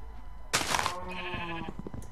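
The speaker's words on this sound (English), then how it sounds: "I now have sheep in here" Sheep in the Minecraft video game bleat once in a loud, close, wavering call lasting about half a second, with a small thunk and faint background noise around it.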